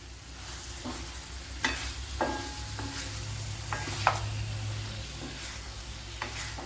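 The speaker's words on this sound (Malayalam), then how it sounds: "അപ്പോൾ നല്ലപോലെ അതൊക്കെ മസാലയൊക്കെ ചേർത്ത് പിടിപ്പിച്ചെടുക്കാം" Lemon pickle with masala being stirred in a pan, with a steady soft sizzle and repeated scraping strokes of the spoon against the pan, close up and without talk.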